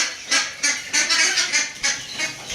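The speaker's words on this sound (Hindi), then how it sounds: "और ये देखिए सारी बतखें इधर इकट्ठी हुई हैं।" A flock of ducks gathered together in a shaded veranda quacks in a run of loud, close, overlapping calls, about eight honking bursts in quick succession.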